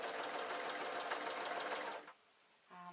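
A sewing machine runs steadily for about two seconds while stitching quilt squares together, a loud, continuous mechanical whir close by. It then stops, leaving near silence before a brief faint hum at the end.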